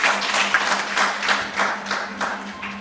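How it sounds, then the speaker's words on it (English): Audience applause at an outdoor community event for a storm drain project, a steady patter of many hands clapping at moderate distance over a faint constant hum, with no talking. "I think they deserve a round of applause"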